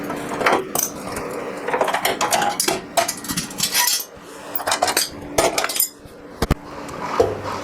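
Metal clamps come off a curved bumper being built for a 1939 Hudson rat truck, making sharp metallic clanks, clinks and knocks in irregular bursts with short pauses, close and loud.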